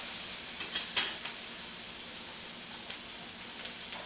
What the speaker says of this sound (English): I'm stirring that around a little bit over here.